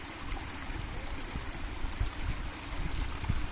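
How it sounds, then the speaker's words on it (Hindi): A small mountain stream flows in Solang Valley, a steady broadband rush and gurgle of water heard close with faint rumbling underneath and no voices. "ये देखिए, पानी बहता हुआ"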